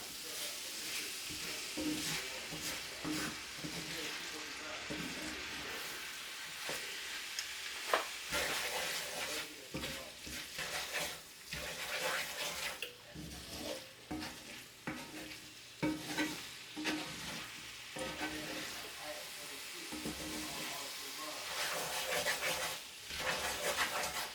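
A spoon scrapes and stirs sausage and egg hash in a pot, producing irregular rasping strokes over a soft sizzle, close and fairly quiet, with no talking.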